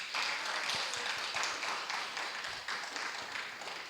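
An audience at a church worship gathering applauds Kim Gwang-tae with steady, continuous clapping that stays fairly even and slightly distant for the whole stretch.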